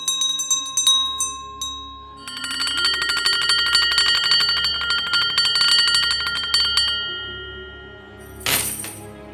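A bright metallic bell effect for a reading of A Christmas Carol rings out in clustered strikes with long shimmering overtones, loud and close, swelling and decaying repeatedly before a final burst.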